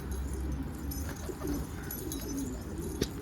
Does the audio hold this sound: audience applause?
no